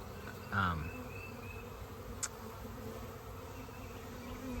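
A swarm of honeybees fans at a hive entrance, giving a steady low droning buzz throughout with one louder bee passing close early on, heard outdoors without talking.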